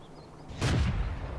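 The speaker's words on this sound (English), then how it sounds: "Fire a shell at him." A shell fired from an M24 Chaffee light tank in the World of Tanks game: one sharp, loud blast with a heavy low boom that rings out and fades over about a second.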